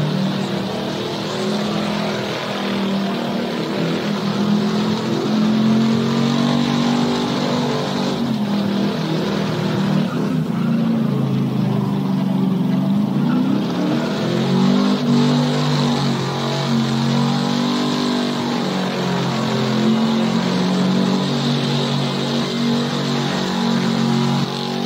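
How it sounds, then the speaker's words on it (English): A full-size pickup truck's engine roars continuously, revving and droning as it spins on a burnout pad at a burnout competition in Indy, sustained and close for the entire stretch. "for a full-size truck, he's doing a damn good job getting this thing all over the burnout pad"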